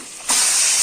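Mutton dropped into hot oil for a homemade mutton curry, a sudden loud sizzling hiss bursting up and holding steady, close and alone.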